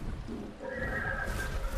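A horse in a video game gives a single shrill whinny that rises and trails off, fairly loud and close, against a rough background hiss.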